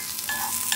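Ingredients for Thai jaew being stirred as they dry-roast in a pan, a short soft scraping and sizzling close up with no voices.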